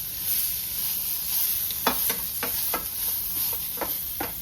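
Homemade ginger garlic paste frying in oil for an egg curry, a steady close sizzle with several sharp stirring scrapes against the pan, no voices.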